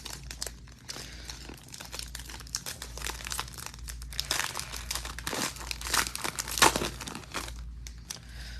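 A foil pack of Panini Prizm NFL trading cards is torn open and handled up close, giving continuous crinkling and rustling with small tearing bursts over a low steady hum.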